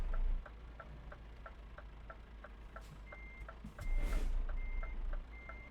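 Repeating reversing beeps from a truck backing up to trailers in Euro Truck Simulator 2, steady evenly spaced tones over low engine rumble, with a few higher tones and a brief hiss toward the end.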